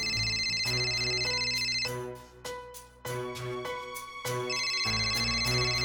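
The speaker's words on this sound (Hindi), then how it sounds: "पूजा का फोन है।" A phone ringtone plays loud and close in repeated bursts of a bright melodic tone with short gaps between them, alone without voices.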